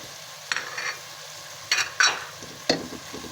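Minced meat with potatoes, tomatoes, salt, chili, turmeric and ground coriander frying in a pan: a soft steady hiss broken by a few short scraping stirs, close up with no voices.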